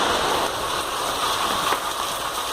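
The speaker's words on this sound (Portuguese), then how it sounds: "Hoje eu vou mostrar a chuva que tá aqui onde que eu moro." Steady rain falls outdoors where someone lives, a dense continuous hiss of drops hitting surfaces at an even, close, fairly loud level, with no voices.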